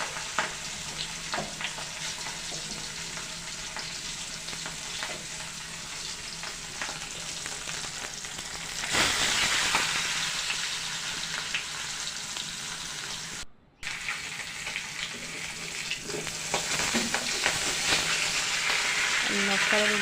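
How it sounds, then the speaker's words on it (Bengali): Pangas fish head and tail fry in hot oil, producing a continuous close crackle and sizzle with occasional spits and stirring. The sizzle briefly cuts out partway through and then resumes just as strong. "পাঙাশ মাছের তেল খুব ছোটে, খুব সাবধানে ভাজবেন"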